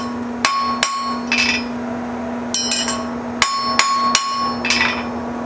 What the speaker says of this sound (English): to fix that, I'm going to tap cold here on this side, and that should raise this bar up